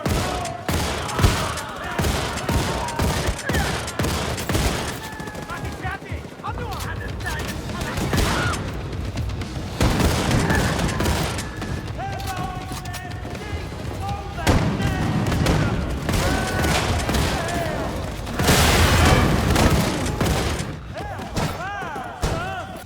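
Heavy gunfire from the video game Wolfenstein II: The New Colossus, including a triple-barrel rotary shotgun, with dense, loud bursts and booming shots running almost continuously under a narrating voice.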